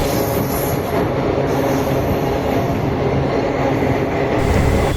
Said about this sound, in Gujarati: એક ટ્રેન 1 મિનિટે પૂરી થઈ છે.